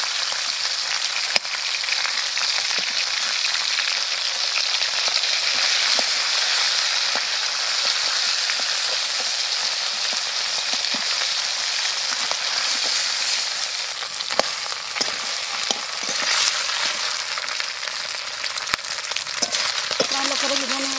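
Fish heads fry in a pan with a steady, loud, crackling sizzle that runs without a break, with occasional faint stirring clicks on top.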